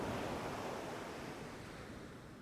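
Ocean waves surge in a broad, steady rush of surf that slowly eases and fades, with no voices or other sounds.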